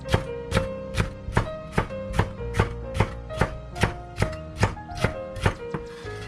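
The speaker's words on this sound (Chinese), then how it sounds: "将辣椒摁扁，然后再用刀切成丝" A kitchen knife slices flattened green chili peppers into strips on a cutting board, about a dozen sharp, evenly spaced chops at a steady rhythm, close and clear with no voices.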